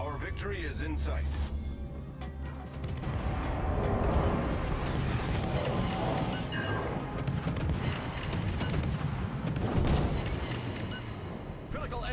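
In the World of Warships naval game, a destroyer's guns fire a rapid burst of booming, rumbling salvos, loud and layered over a minute-long battle din while someone talks over it.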